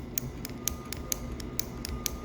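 Manual ratchet crimper squeezing down on electrical cable, about six evenly spaced sharp metallic clicks over faint background hiss, close and fairly quiet.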